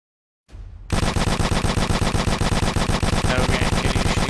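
Rapid gunfire in the Aim Labs aim trainer video game: after a short rising lead-in, a dense unbroken stream of sharp shots fires fast and loud, with no talking.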